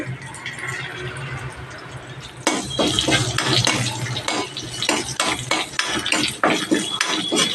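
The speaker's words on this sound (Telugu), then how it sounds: "ఒక 5-6 వెల్లుల్లి రెబ్బలు, అల్లం ముక్క చిన్న ముక్కలుగా కట్ చేసి పెట్టుకొని ఆయిల్లో వేసి వేపుకోవాలి" Chopped garlic cloves and a piece of ginger drop into hot oil, then a spoon stirs and scrapes the pan in quick repeated strokes over a rising sizzle.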